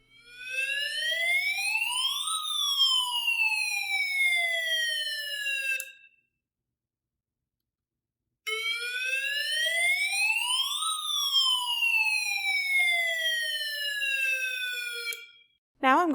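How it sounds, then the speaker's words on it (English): Electronic fire truck siren from a snap-together electronics kit circuit, rising then falling in two long wailing sweeps separated by a brief silence, loud and alone. "This will produce the sound of a fire truck."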